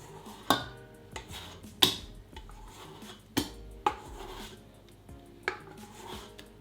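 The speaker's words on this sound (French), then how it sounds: "Et je mélange à nouveau" A pastry mixture stirred in a bowl, with a utensil scraping and knocking against the sides in irregular clinks and taps, several sharper hits among softer rubbing, close and alone.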